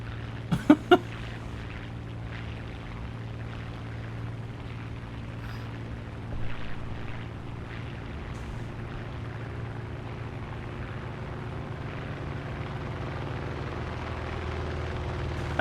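Steady low droning engine of a friendly aircraft loitering close by in a video game, a constant loud hum filling the scene with a few brief sharp clicks near the start.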